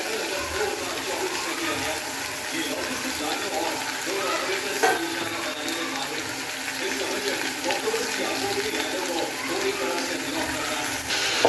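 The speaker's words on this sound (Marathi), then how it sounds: "आता कांदा फ्राय करून घेऊयात आणि लगेच टोमॅटो पण टाकून देऊयात." Onion and tomato frying in a pan for paneer tikka masala gravy, a dense continuous sizzle with faint stirring, close and steady throughout, with a voice faintly audible underneath.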